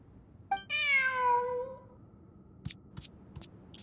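A single drawn-out cat meow from the video game Genshin Impact, rising then falling, clear and close, followed by a few soft clicks.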